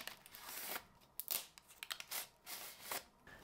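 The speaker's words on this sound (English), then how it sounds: "Then you wanna cut off all the plastic strips or just peel them off to remove them." Scissors snipping plastic strips off a 3D-printer filament spool, a close series of quick soft snips and crinkles at a low, steady level.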